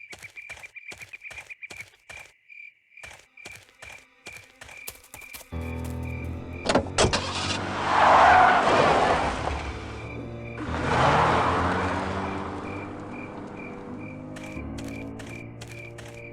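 Car ride in the adventure game Full Throttle: soft rhythmic ticks and thumps, then a loud engine drone kicks in with two swelling whooshes as the car drives, before fading back to sparse ticking.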